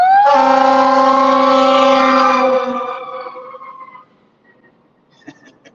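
Fire engine siren blares loud and close as one sustained, harmonically rich wail for a couple of seconds, then fades away over the next few, leaving faint clicks at the end.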